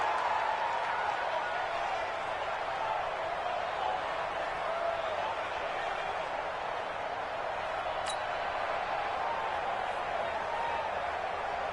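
Steady, dense roar of a large football stadium crowd during a Titans game near the goal line before a big third down, sustained and fairly far off, with no distinct claps or shouts standing out.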